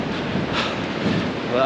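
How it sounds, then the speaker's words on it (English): Strong gusts of wind buffet the microphone during an outdoor marathon training run. A loud, steady rumbling blast continues without a break, and a voice speaks briefly over it. "every now and then get quite strong gusts of wind."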